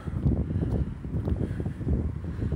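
Wind on a damp, gusty morning buffets the microphone with a steady, loud, low rumble that rises and falls in uneven surges.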